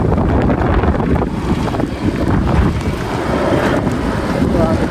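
Strong wind buffets the microphone outdoors during a sudden summer rainstorm in a village, a loud, constant low rumble that fills the whole clip with no break.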